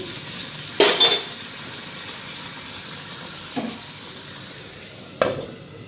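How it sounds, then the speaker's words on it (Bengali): Shukto cooks in a kadai over a gas flame with a steady low sizzle, broken by three brief metallic clinks of a utensil against the pan. "আর এই কড়াইতে শুক্তাটা বসাই দিই"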